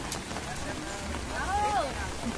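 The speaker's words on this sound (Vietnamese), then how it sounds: "Mưa lắm các bạn." Rain falls steadily at an outdoor piglet market on a wet day, a dense close hiss of drops on surfaces with people talking and a brief squeal over it.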